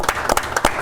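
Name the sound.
round of applause at a city council meeting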